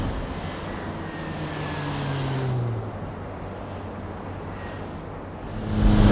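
A loud, fast performance car drives past with a sustained engine drone that swells briefly, eases off, then surges louder again at the end.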